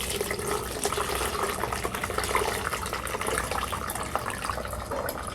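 Red onion tea strained through a strainer into a container, a steady broadband pour and trickle of liquid running evenly for several seconds, close by and moderately loud with no speech.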